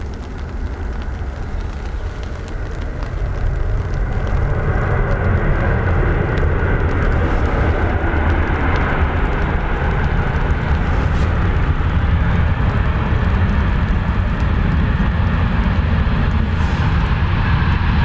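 A jet airliner rolls along the runway at Dublin Airport, its engines a loud, continuous roar that rises after a few seconds and holds steady, with no speech.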